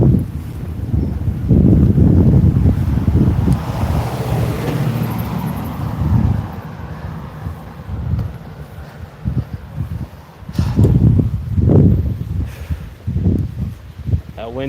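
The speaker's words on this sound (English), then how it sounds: "That wind is really kicking." Strong outdoor wind buffets the microphone in loud gusty rumbles that rise and fall, heard at night while waiting for the northern lights, with a voice speaking briefly over the roar.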